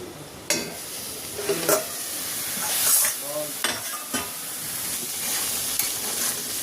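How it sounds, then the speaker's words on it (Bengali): Vegetables and chira pulao (flattened rice) being stirred in a pan, with a steady soft sizzle and several distinct scraping strokes of the spoon against the pan, close and fairly loud, no talking. "এবার আমি এইভাবে নেড়ে দিচ্ছি।"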